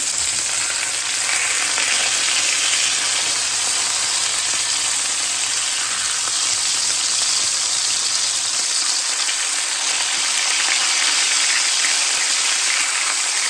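Fries sizzle steadily in hot oil, a close, continuous crackling hiss with a low hum that drops out partway through.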